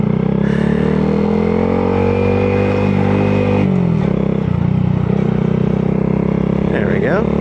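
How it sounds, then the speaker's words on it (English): Several motorcycles, many of them Harley-Davidsons, pass by outdoors with a steady loud engine drone that rises and shifts as they go by, with voices talking over the rumble. "Seeing a lot of bikes go by."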